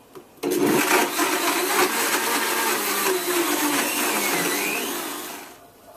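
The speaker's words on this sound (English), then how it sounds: "Now blend this for about 30 seconds on high" A blender runs on high, whirring a chocolate ice cream smoothie, starting abruptly after a brief quiet moment and holding a loud, steady churn that eases off near the end.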